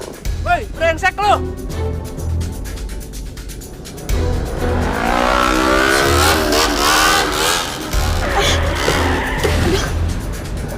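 A motorcycle ridden recklessly on a road revs and roars past under excited voices, its engine note climbing and wavering through the second half amid traffic noise.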